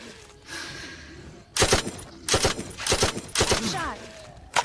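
Gunfire in a shooting video game: about five sharp, loud bursts, some closely clustered, with quieter background game sound between them.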